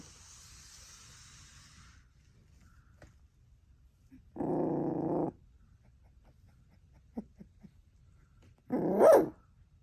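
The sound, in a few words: 18-day-old puppies barking and growling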